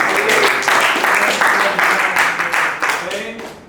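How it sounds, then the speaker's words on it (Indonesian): A class of schoolchildren applauds a classmate, a dense, loud and steady wash of clapping from many hands close by that lasts throughout, with faint voices underneath. "berikan tepuk tangan untuk Krisna"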